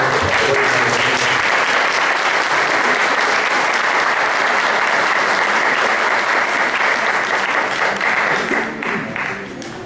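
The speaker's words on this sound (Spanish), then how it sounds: "Para ella solicito un caluroso aplauso." A seated audience at a Mexican public forum on oil privatization breaks into warm, sustained applause, dense and loud throughout before thinning slightly at the end.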